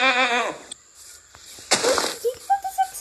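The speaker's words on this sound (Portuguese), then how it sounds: "Cadê a cabra que me batia?" A goat in the Minecraft video game gives a loud, wavering bleat at the start, followed by scattered game clicks, pops and short tonal blips.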